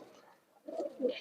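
Green-necked pigeons in a loft of over a hundred birds give soft, low cooing, a faint murmur at first, then two fuller coos close by near the end.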